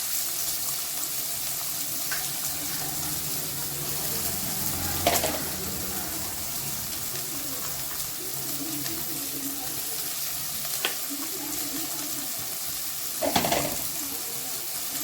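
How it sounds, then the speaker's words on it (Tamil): Onion, ginger and garlic sautéing in a pan for mutton bone soup, a soft steady sizzle with occasional louder scrapes and stirring knocks, quiet and close with no talk over it. "வெங்காயம், இஞ்சி, பூண்டு ஒன்றா போட்டு வதக்கிக்கலாம்."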